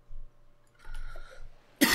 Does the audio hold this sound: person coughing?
yes